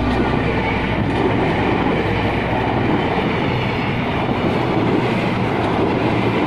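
A train rumbles past close by, a steady, loud broadband roar with a faint rhythmic clatter of wheels on track throughout.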